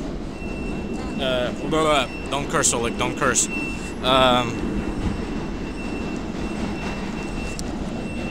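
A New York City subway train rumbles past with rising and falling metallic squeals from the wheels, while people talk over the noise on New Year's Eve.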